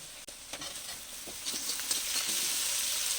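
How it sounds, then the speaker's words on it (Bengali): Capsicum and beans frying in a pan for vegetarian fried rice, a soft, close sizzle building steadily, broken by scattered stirring scrapes and light clicks. "বিনসটা দিয়েও 2 মিনিট মতন ভেজে নিলাম, দিয়ে এবার আমি ক্যাপসিকামগুলোকে দিয়ে দিচ্ছি।"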